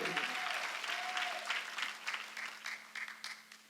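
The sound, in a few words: congregation applause in church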